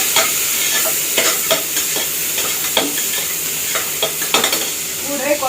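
Onions sautéing in a pan at home, a steady sizzle broken by repeated scraping stir strokes of a spatula, loud and close with no talk.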